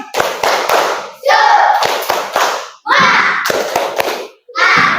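A school class claps together in the rhythmic Indonesian 'tepuk semangat' cheer, loud and close, with bursts of patterned claps and children's voices chanting between them.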